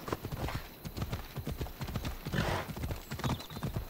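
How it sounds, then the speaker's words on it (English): Rapid hoofbeats clatter steadily throughout in Assassin's Creed Odyssey, with a whinny rising midway over the galloping rhythm. "Why does my horse wear a tablecloth?"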